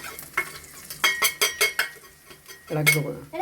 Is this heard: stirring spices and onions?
yes